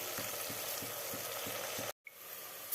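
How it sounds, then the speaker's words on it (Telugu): Chopped onions fry in oil until brown, a steady close sizzle with faint regular stirring pulses, cut by a brief silent gap near the end before a quieter sizzle resumes. "ఉల్లిపాయలు గోధుమ రంగు వచ్చే వరకు నూనెలో బాగా వేయించుకోవాలి."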